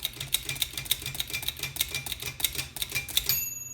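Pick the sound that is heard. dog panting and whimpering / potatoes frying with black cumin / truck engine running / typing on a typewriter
typing on a typewriter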